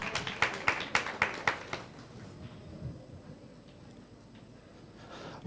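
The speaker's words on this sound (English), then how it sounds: "One more time, a round of applause as he's coming up to the front." A workshop audience in Alexandra claps briefly as a prize position is announced, a short burst of sharp handclaps over about two seconds before fading into quiet room noise.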